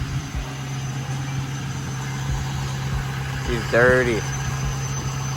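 A pickup truck running at a steady low idle after being started, back from a 1,000-mile drive, with someone speaking briefly over the engine hum.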